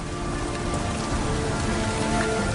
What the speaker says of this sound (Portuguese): em Titã, a chuva não é de água, mas de metano líquido que cai lentamente